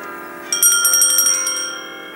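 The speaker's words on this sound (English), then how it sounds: "You can hear them so well from here." Bells ring in a quick cluster of bright, sustained chimes that start abruptly, overlap for about a second, then fade into a lingering hum.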